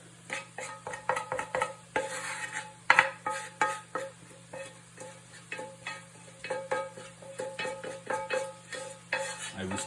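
Onions cooking in a pan, a constant low sizzle under frequent scraping and clattering of a utensil stirring against the pan, close and busy, with no voices.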